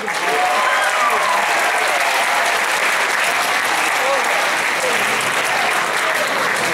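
Steady, dense audience applause fills a school festival hall, an unbroken wash of many hands clapping at even loudness from start to finish.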